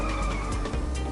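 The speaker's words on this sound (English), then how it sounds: "This one, it goes into a drift pretty easily." Tires skid and hiss under a revving engine as a futuristic 80s-styled car slides into a drift in the arcade racing game Inertial Drift, a short, continuous, close sound.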